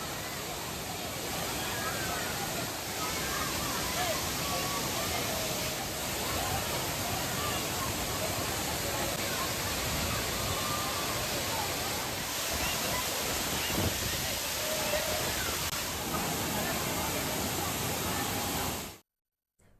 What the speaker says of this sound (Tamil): இதனால் திருப்பரப்பு அருவியிலும் தண்ணீர் கொட்டுகிறது.